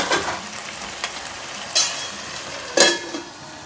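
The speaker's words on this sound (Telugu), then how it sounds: "1 నిమిషం ఆయిల్లో అల్లంలో మంచిగా మగ్గనిద్దాం." Cucumber pieces cook in hot oil with ginger for a dried eel fish curry, giving a low steady sizzle with three or four distinct scraping stirs of a spoon against the pan, close by and without talk.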